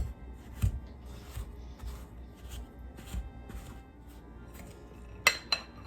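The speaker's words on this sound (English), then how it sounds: "So as you cut the butter into the gluten-free baking mix" Forks cut cold butter into gluten-free baking mix for cheesy garlic biscuits, giving faint scraping and light tapping, then two sharp metallic clinks near the end, close and quiet.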